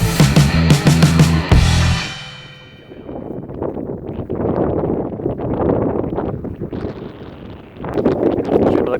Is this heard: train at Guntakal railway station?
no